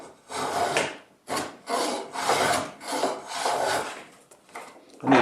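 A small Veritas number 1 hand plane is pushed along a piece of wood in a series of rasping strokes, about six rhythmic shaving passes close up, with no talk.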